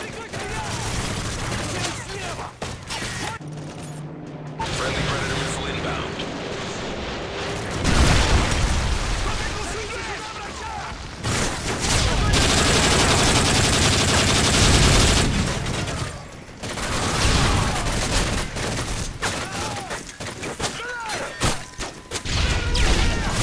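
A sentry gun in Modern Warfare 3 Survival Mode firing long rapid automatic bursts amid explosions and chaotic battle noise, loud and sustained, with game voice callouts mixed in.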